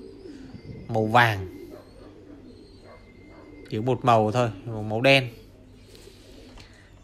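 Thai Titan meat pigeons coo softly at a farm, a low background murmur under someone speaking Vietnamese in short bursts.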